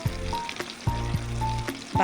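Chicken pakoras coated with cornflour or flour and breadcrumbs frying in hot oil, a steady close sizzle with a few soft clinks of a utensil against the pan, no voices.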